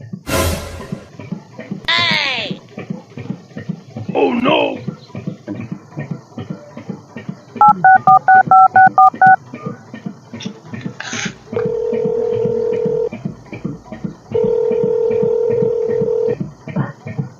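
Telephone dialing, a rapid series of keypad beeps followed by long steady ringback tones, preceded by short bleating-like noises and rustling, with no speech.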